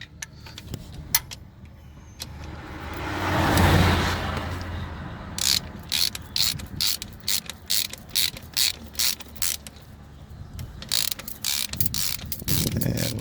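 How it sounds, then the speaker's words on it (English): A 1/2-inch ratchet with a 16 mm socket tightening starter bolts on a 2006 Buick Lacrosse, a burst of rapid clicking pawl strokes after a brief mechanical rustle, close and distinct. "we're gonna tighten up the starter bolts here."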